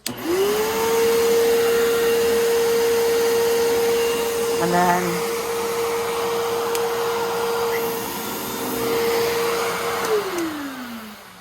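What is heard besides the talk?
upright vacuum cleaner running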